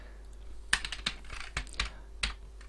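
Keys clatter on a computer keyboard during Java game programming in Eclipse, a close series of irregular clicks and short bursts with brief pauses and no voices.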